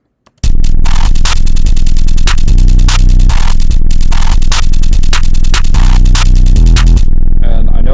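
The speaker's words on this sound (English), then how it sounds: "drums alone sound like this." Heavily distorted, crunchy drum beat programmed in FL Studio pounds loud and steady for about seven seconds, dense and saturated with rhythmic hits throughout, then cuts off abruptly.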